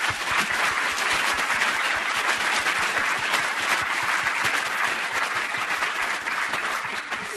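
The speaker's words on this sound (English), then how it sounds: "give our speakers a round of applause" A panel discussion audience gives a sustained, dense round of applause for the speakers, steady and even from start to finish with no talking over it.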